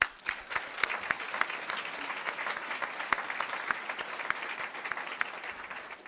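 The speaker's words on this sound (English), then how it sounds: "You all deserve a round of applause." An audience at the Albertus Magnus College Laurel Awards ceremony applauds, a dense steady patter of many hands clapping that fills the room for several seconds at moderate volume.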